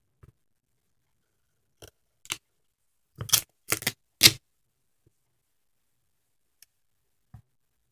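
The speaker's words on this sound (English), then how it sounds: "go ahead and cut any of the excess on the sides" Scissors trim excess duct tape from the edges of a pinwheel, giving a quick cluster of sharp, close snips mid-clip, with a few isolated soft clicks before and after in otherwise quiet surroundings.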